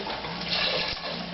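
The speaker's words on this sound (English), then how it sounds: "And you can just use water straight from the tap." Water runs steadily from a kitchen tap into a pot, a loud continuous hiss and splash lasting the whole short moment.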